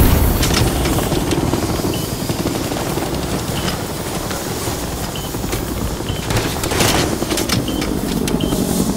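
An extraction helicopter in the Call of Duty Modern Warfare 3 game roars loudly and steadily, its dense rotor and engine noise filling the scene with no break.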